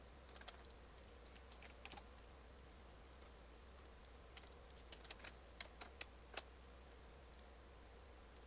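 Scattered keystrokes on a computer keyboard while typing commands for an AutoCAD bookcase drawing, sounding as faint, irregular clicks over a steady low hum, with no speech.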